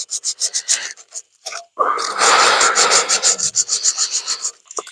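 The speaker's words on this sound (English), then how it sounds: "So we got a little piece of sandpaper, just a used piece to clean this off." A used piece of sandpaper rubs a starter terminal on a Ford Flathead V8 starter, close, in short rhythmic scratching strokes followed by a longer run of harsh rubbing.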